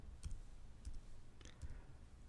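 Computer mouse clicking while opening a calculator app: several short, crisp clicks spaced through the clip, fairly faint over a quiet background, with no speech.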